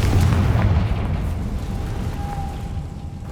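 A Confringo spell blast in the Hogwarts Legacy video game: a deep, loud rumbling boom that swells at once, then rolls and fades across a few seconds, with a brief thin whine near the end and no voices.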